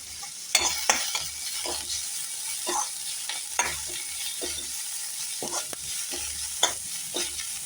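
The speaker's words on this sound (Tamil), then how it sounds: "ஒரு 2 நிமிஷம் நல்லா வதங்கட்டும்" Onions and carrots sautéing in a pan for a Chettinad paniyaram batter, a steady close sizzle broken by repeated scraping stirs of a spoon against the pan, with no talking.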